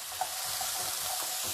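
Drained beans added to a pan of chilli, sizzling and frying steadily with a constant hiss and faint stirring clicks, close and continuous throughout.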